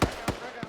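Grenade explosions in the ArmA 3 military video game, three short muffled blasts spaced about a quarter-second apart, fairly distant and faint.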